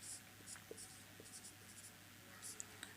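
A pen or marker writes by hand during a basic maths lesson on imaginary numbers, giving short scratchy strokes in quick irregular bursts, close and fairly quiet over a steady low hum, with no talking.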